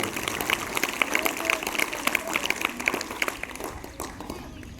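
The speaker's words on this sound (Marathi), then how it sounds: "याचा आपण अतिशय जोरात टाळ्या वाजून खूप खूप या ठिकाणी अभिनंदन करूया" Fifth-grade students at a high school assembly clapping together in a sustained, busy round of applause that holds steady and tapers slightly near the end.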